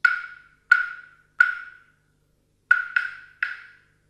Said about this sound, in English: This is an African clave